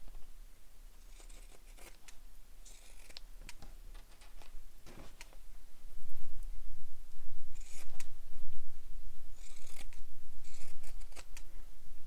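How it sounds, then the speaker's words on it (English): Pinking shears snipping through fabric corners while sewing a messenger bag: close, crisp cutting bursts in irregular clusters that grow louder and denser in the second half. "And I'm just using my pinking shears for this. Trimming it all down."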